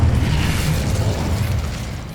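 Confringo fire spell blasts in Hogwarts Legacy, a dense, loud rumbling explosion with heavy low-end boom sustained for about two seconds, no talking.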